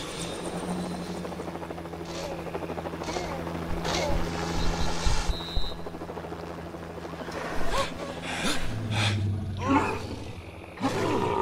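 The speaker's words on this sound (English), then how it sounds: "There's another chopper coming." A helicopter approaches in the Lego The Lost World Jurassic Park video game, its rotor thumping and buzzing steadily, with swelling roars and other bursts of game sound building toward the end.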